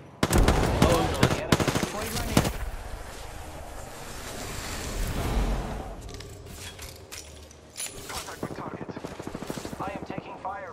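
Rapid video game gunfire crackles in loud bursts, heaviest at the start and again near the end, with a lull of rushing noise in between.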